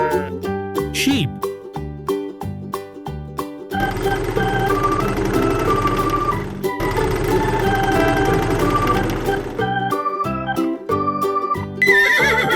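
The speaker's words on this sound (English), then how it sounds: "Horse." A farm horse gives a loud, drawn-out neigh, with a shorter whinny near the start, over constant background music and hoof-like clatter.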